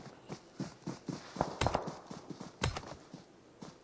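Player footsteps in a tactical video game: a run of soft, evenly spaced steps with a couple of heavier thuds, fairly close and quiet, no talk.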